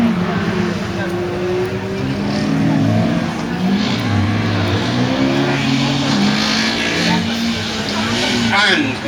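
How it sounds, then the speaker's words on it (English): A historic-spec rally car with a 1600 X-Flow engine idles and revs at the start line of a stage rally, engine rumble steady and close throughout, with a voice talking over it. "this car is an historic spec car, including the 1600 X-Flow engine"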